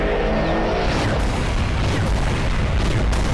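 Explosions from a Skibidi Toilet animation battle featuring an upgraded Titan Speakerman, a loud, continuous rolling barrage of deep booms and blasts with no break.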